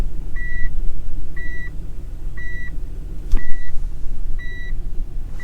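Seatbelt warning alarm in a Nissan Elgrand E51 van: a regular series of clear electronic beeps about once a second over a low engine rumble inside the cabin, with one brief thud partway through.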